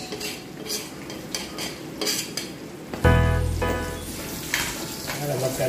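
Garlic and onion drop into hot oil for Filipino chicken oil, with a few soft clinks of a utensil before a sudden loud burst of sizzling that settles into a steady fry, with no speech.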